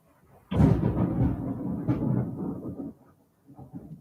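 Thunder from an approaching storm rolls in as a deep, rumbling roar, loud and sustained for a couple of seconds before fading, with a fainter low rumble returning at the end.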